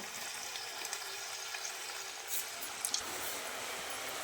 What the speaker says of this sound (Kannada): ಎಣ್ಣೆ ಕಾದಿದೆ ಈಗ ಈಗ ಚಕ್ಲಿ ಎಲ್ಲ ಈ ಥರ ಒಂದೊಂದೇ ಹಾಕಬೇಕು